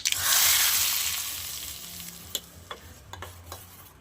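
Mustard seeds splutter in hot oil for a tempering: a loud hiss that swells at the start and fades, followed by a few sharp pops and crackles spaced irregularly, close by, with no talk.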